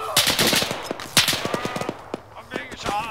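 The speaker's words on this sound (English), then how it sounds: "I'm being shot." Rapid bursts of close automatic gunfire and sharp single shots in an Arma firefight on Chernarus, loud and irregular, with brief voices among the shots.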